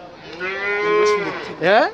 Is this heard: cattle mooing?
yes